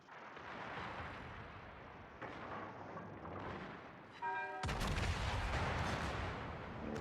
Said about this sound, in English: Puts 2 shells out on the North Carolina as the secondaries continue to work on Toulon